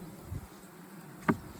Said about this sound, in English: I meant by all the bees at the top of the frames